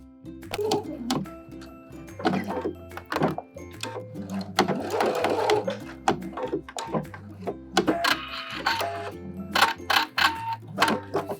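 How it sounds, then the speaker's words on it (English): A sewing machine stitches a denim jacket sleeve cuff in short starts and stops, its rapid mechanical whirr and clatter coming in bursts separated by pauses and small clicks, close and fairly loud. "Now we're just gonna stitch right where we took that last stitch out."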